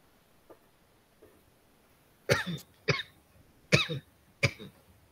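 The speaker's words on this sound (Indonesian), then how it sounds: "Oke, Ibu batuk ya?" Four sharp coughs from a woman, close and fairly loud, in irregular bursts after a couple of faint earlier sounds in a quiet room.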